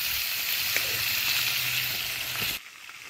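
Bay leaf dropped into hot oil for tempering, a bright close sizzle with a low bubbling hiss underneath, holding steady for a couple of seconds before dropping suddenly to a faint residual fizz.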